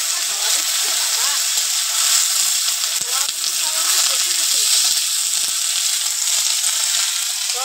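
Chopped vegetables sizzling in a pan with fried onions, a steady bright hiss that holds for the whole stretch, with a voice speaking faintly over it.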